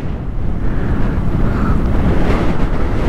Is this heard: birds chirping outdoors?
no